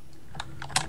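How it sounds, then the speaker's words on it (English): Loud computer keyboard typing, heard as a few close, sharp key clicks in quick irregular succession with no talking. "Your keyboard is so loud."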